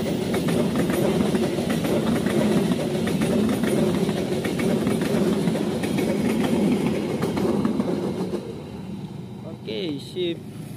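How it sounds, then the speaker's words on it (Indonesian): The Papandayan passenger train rolls past Cisomang station in West Java with a loud, continuous rumble and rhythmic wheel clatter that fades toward the end, where a short horn-like tone and voices come through. "Kereta api Papandayan sudah melintas di stasiun Cisomang."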